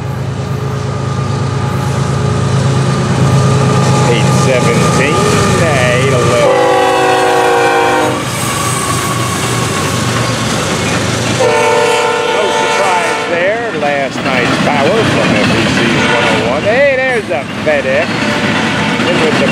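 FEC 210 freight train rolling past in early morning, with a loud locomotive horn blasting in long chords twice over the steady rumble and clatter of cars, heard close and dominant throughout.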